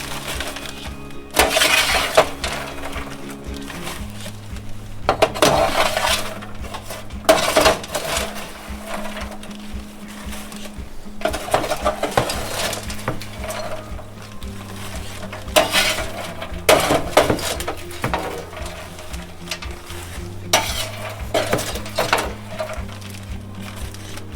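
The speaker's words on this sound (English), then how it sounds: "we're going to scoop this popcorn into a 2-gallon Ziploc bag while it's still hot." Hot, freshly popped popcorn scooped into a 2-gallon Ziploc plastic bag: repeated crunchy, rustling scoops come in bursts every few seconds over steady background music, with no talking.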